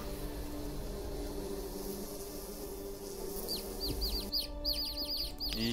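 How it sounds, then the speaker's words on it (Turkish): Chicken in Niffelheim, a burst of quick rapid clucks arriving toward the end over a steady ambient hum, close and clear. "Aha tavuk."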